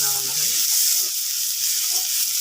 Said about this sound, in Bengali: তেল দিয়া দিই, পেঁয়াজ দিয়ে দাও, ধোয়া উঠতেছে